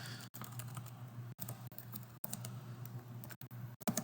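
Quiet bursts of key clicks on a computer keyboard as a file name is entered, uneven pattering with brief pauses between runs and no voices.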